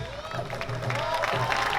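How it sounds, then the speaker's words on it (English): An audience applauding at the Malay Cultural Festival in Singapore, a short burst of clapping and light cheering from the crowd, with a voice talking over it. "Round of applause for 7etangga Pulau Singa."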